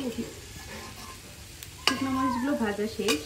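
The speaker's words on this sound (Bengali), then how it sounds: "বোটা সহ শুকনো মরিচগুলো ভেজে নিতে হবে" Dried red chillies with their stems fry in oil in a pan for a pumpkin mash, a steady close sizzle with sharp crackling pops, a voice talking over it.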